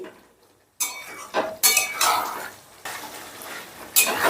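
Chicken and cornflour being stirred in a pan for chilli chicken, with a quiet start followed by repeated bursts of spoon scraping and clinking against the metal alongside a light sizzle.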